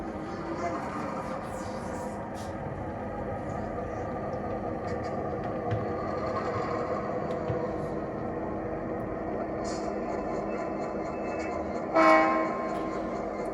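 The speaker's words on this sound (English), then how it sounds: "So you hear the diesel engine throttle up." A Blunami sound decoder on a model diesel locomotive throttles up, giving a steady, close engine drone with a rumbling low end throughout. A brief louder horn-like burst comes near the end.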